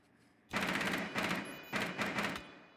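AK rifle fire in a multiplayer shooter video game: two rapid bursts of automatic gunfire, each a quick string of sharp cracks, close and fairly loud, with a brief pause between them.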